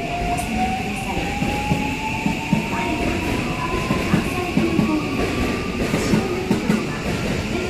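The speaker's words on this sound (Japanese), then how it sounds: "まもなく3番乗り場に19時46分発関空快速関西空港行きが8両で参ります。" JR Kansai Airport Rapid, an eight-car train, pulling into Kyobashi station in Osaka: a loud rumble of wheels with rhythmic rail clatter and a rising, squealing brake tone, heard close on the platform.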